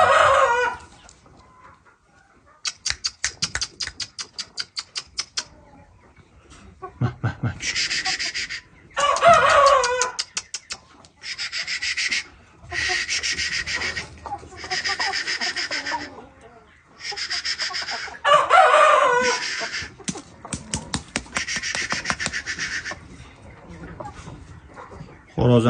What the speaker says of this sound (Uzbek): Mana jo'jalar, mana tovuqlar.